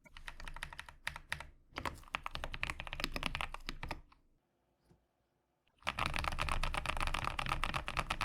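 Rapid clicking on a computer keyboard while programming a Java text editor, with bursts of close, crisp keystrokes broken by a brief quiet pause before dense typing resumes.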